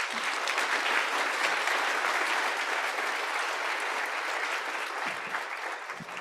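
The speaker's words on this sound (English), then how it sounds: "give them a round of applause" Sustained, dense applause from a conference audience fills the room evenly for several seconds, then thins slightly toward the end as a few voices and knocks emerge.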